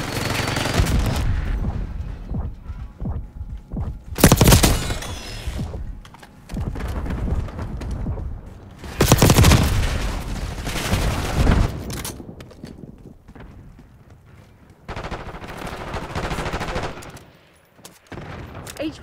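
Gunfire in the video game Call of Duty: Black Ops 6: several loud bursts of rapid automatic fire a few seconds apart, separated by quieter stretches of clicking and mechanical noise.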